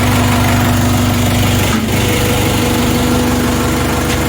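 A Jinma tractor engine runs steadily nearby, a loud, droning idle with a constant low hum and a brief dip partway through.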